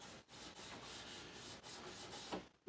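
Steady, soft back-and-forth rubbing of a rag over the metal frets of a Martin guitar, a quiet scraping texture with short pauses between strokes.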